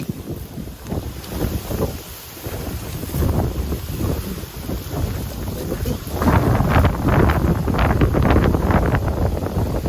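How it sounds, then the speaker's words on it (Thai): Strong outdoor wind buffets the microphone in rough, surging gusts that grow louder and more constant in the second half, with no voices over it. "ลมแรง"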